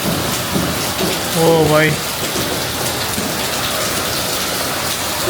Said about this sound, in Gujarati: અહીંયા વરસાદ જો મન મૂકીને વરસે જો અત્યારે તો.